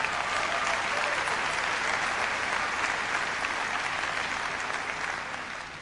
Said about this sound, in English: I noticed the people in the uniforms here applauding a little louder